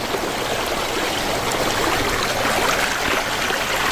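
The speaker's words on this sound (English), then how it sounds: "More water ASMR." Outdoor stream in the wild flowing steadily over rocks, a continuous loud broadband rush of water with no pauses and no talking.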